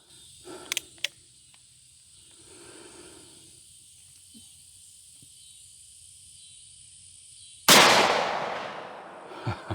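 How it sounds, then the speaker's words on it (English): A Ruger Blackhawk revolver fires a single Underwood Extreme Cavitator round into a block, a loud sharp crack partway through that decays quickly, with faint clicks and quiet handling before it. "the first round we're going to shoot is going to be the left block with the Extreme Cavitator from Underwood Ammo"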